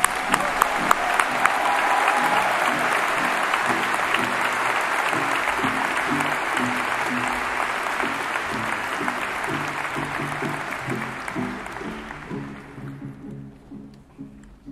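Sustained applause from a graduation ceremony audience honoring mathematics graduates, loud and dense for most of the stretch with music or tones underneath, then gradually fading out toward the end.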